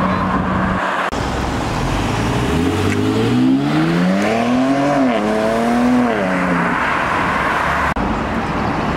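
An Audi RS3 passes on a street, its engine note rising and falling in a clear sweeping rev as it goes by, loud and close over steady traffic noise.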